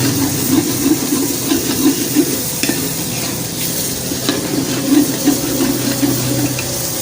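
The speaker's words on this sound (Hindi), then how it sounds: "अब मैं डालने लगा हूँ ये जो मटर और आलू लेके रखे थे हमने।" Peas and potatoes tumbling into a hot frying pan for a commercial-style aloo matar, with loud sizzling and repeated stirring scrapes in an uneven rhythm, with no voices.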